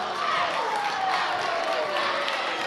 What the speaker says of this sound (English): Crowd getting a little wound up now as the game becomes even more exciting.